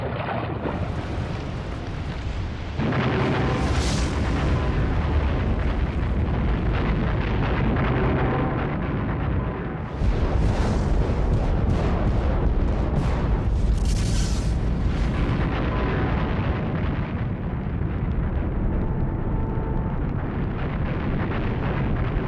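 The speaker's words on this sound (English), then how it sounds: "The blast of a super eruption would be awesome enough" Depiction of a super volcano eruption blast: a sustained, roaring low rumble with two surges of force, continuous and loud throughout, with no voices.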